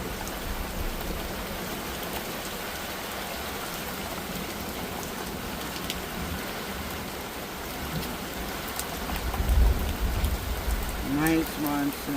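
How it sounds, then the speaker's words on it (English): Steady monsoon rain pours down in a dense, continuous wash of drops hitting surfaces, close and fairly loud throughout, with a brief voice and a small clatter near the end. "Nice monsoon rain."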